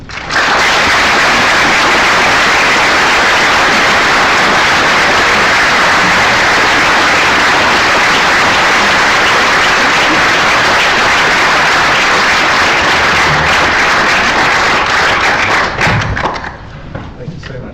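Sustained audience applause fills a lecture hall at Magdalene College, Cambridge, welcoming a new professor, a dense steady roar of many hands clapping at full strength for about sixteen seconds before tapering off abruptly.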